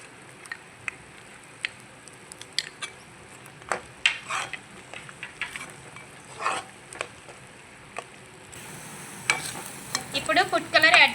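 A spoon scrapes and stirs thick Bombay Karachi halwa cooking in ghee in a pan, giving soft, irregular clinks and scrapes over a faint sizzle, close and fairly quiet with no talking.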